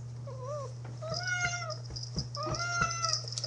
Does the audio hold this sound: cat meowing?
yes